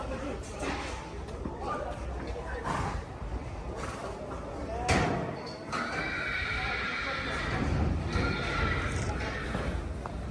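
Horses neigh and whinny with clip-clopping hooves at a busy livestock market, a loud whinny cutting through steady crowd chatter and scattered movement, with people talking throughout.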